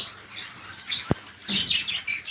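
An adult pair of blue-yellow-sided conure parrots give a few short, high chirps and tweets close by, with one sharp click in between.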